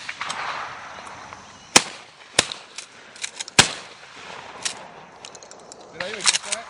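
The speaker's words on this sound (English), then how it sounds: "Pat's shooting a Mossberg 535. Brian's got a Mossberg 500." Shotgun blasts from a Mossberg 535 and a Mossberg 500 fired at clay targets outdoors, three sharp loud reports spaced about a second apart, followed by fainter clicks and a brief voice near the end.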